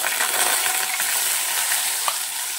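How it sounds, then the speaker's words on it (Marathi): Ground masala paste sautés in hot oil already crackling with cumin seeds and curry leaves for a pathadi gravy, a steady close sizzle and hiss with a faint clink or two. "आता आपल्याला हे मिक्सरमध्ये बारीक केलेलं सारण ह्या तेलात परतून"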